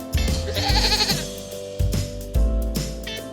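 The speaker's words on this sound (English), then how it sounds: "Goat." A goat bleats in a quavering, wavering cry near the start, followed by a couple of shorter bleats, close and fairly loud with no talking.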